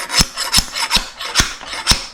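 A crown race setter tube is struck down onto a Rockshox Judy Silver TK suspension fork. Five sharp, close metallic whacks land at a steady, unhurried pace with no talking.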